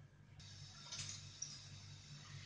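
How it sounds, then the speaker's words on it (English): Water pouring into a cooking vessel to boil, a steady hissing stream that starts abruptly and runs continuously, fairly faint, with a low hum beneath. "I'm putting water to boil."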